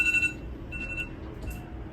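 An alarm beeps faintly in short repeated electronic tones in a quiet room during a tarot reading, with low background hum beneath it.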